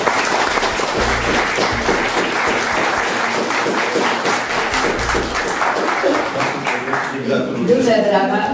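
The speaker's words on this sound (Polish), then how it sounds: "Duże brawa również dla opiekuna pana Andrzeja Tkacza." Sustained applause from a school contest audience in a hall in Pabianice, dense steady clapping throughout, with some voices and a tonal sound rising near the end.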